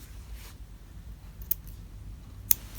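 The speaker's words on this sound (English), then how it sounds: "And it just snips it like that." Small scissors snip through fabric in a few quick, sharp cuts spaced about a second apart, faint and close in an otherwise quiet room.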